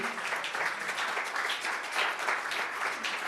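A church congregation claps during a Spanish-language sermon, a steady, moderately loud wash of hands throughout with no talk over it.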